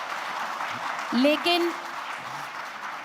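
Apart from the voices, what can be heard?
audience clapping at a political rally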